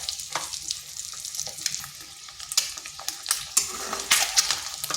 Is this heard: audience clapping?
no